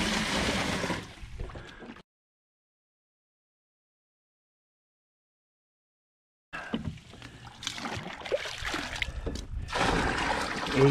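A small pump runs water into a 12-gallon DIY boat livewell, giving a steady trickling, splashing flow that stops for a few seconds and then comes back and grows louder.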